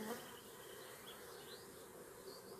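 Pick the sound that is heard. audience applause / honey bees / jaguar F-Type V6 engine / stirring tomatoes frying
honey bees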